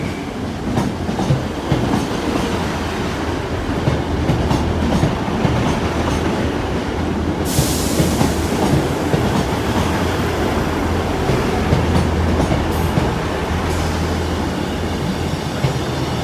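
A Class 158 train rumbles loudly into Sheffield station with steady rolling noise and clattering wheels, brakes hissing midway as it slows.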